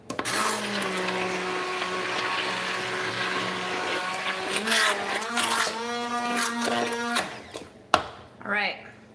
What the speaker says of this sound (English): my immersion blender is starting to feel hot